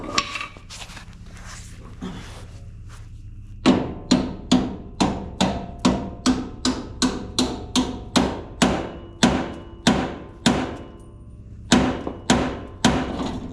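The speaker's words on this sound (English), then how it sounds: "Might have to hit with a hammer maybe" A hammer repeatedly strikes the U-bolts of a 1962 Ford F250 truck being converted to 4x4, in a quick, fairly regular rhythm of ringing blows, close and loud, after a few scattered knocks at the start.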